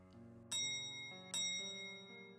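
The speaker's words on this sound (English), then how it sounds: "That's exactly when we heard the chime again." A door chime in a quiet room, two bright bell-like strikes about a second apart, each ringing out with long sustained tones over a low steady hum.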